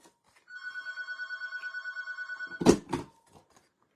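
A landline home telephone rings with a steady pulsing electronic trill for about two seconds, then stops and is followed by a couple of close thumps.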